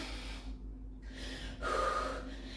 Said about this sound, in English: I hope you're listening to music so you're not hearing my pant